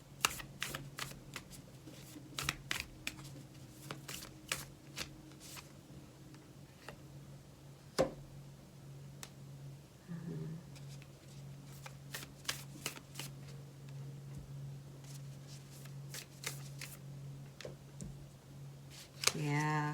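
An oracle deck shuffled by hand gives soft riffling flicks and card taps scattered through a long stretch, faint and close, with a low steady hum underneath and a brief louder riffle near the end.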